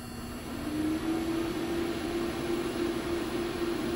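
A cooling tower fan driven by an Amarillo right angle gear drive, running at low speed around 20%, gives a steady mechanical hum with a sustained low tonal drone that rises slightly after starting, continuous and moderately faint, with no talking.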